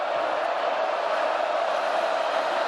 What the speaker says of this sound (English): This crowd trying to help out